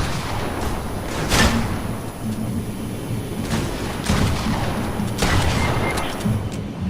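Shotgun blasts in a shotguns-only video game mode ring out several times at irregular intervals, sharp booms over a continuous noisy game background.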